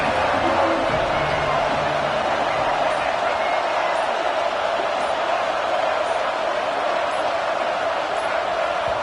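Loud, steady roar of a packed college football stadium crowd during an Auburn versus FSU game, a continuous dense wash of noise with no letup, heard from within the stands.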